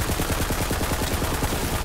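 SMG fire in the video game Borderlands 3 rattles out as a continuous, loud, rapid burst of closely spaced shots that runs the whole stretch without pause.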